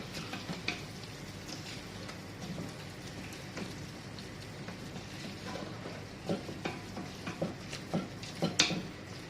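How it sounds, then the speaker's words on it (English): Minced keema stirred in a pan: a continuous faint crackling sizzle like light rain, with occasional soft scraping taps growing busier toward the end, close and quiet, no talking. "so mix well, and this texture will be good"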